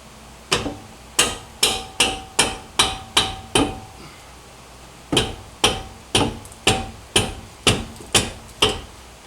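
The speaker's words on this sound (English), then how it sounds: "we'll remove these 19mm bolts" Repeated metallic hammer-like impacts while removing 19mm brake caliper bracket bolts on a 2015-or-later Subaru WRX STI: two bursts of about seven sharp, evenly spaced strikes, close and loud, separated by a brief pause.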